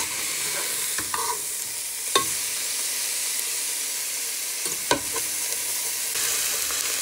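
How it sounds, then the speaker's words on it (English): Onions and peppers fry steadily in a pan for a Thai meatball and noodle dish, a constant sizzle with a few sharp clicks of a utensil against the pan and some stirring, no voices. "That will give flavour to the pan while we fry our onions"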